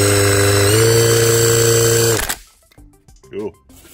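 AMR500 supercharger on a 1993 Honda del Sol B18C1 engine whining loud and close with a steady high tone that steps up in pitch, then cuts off abruptly, leaving quiet handling noises.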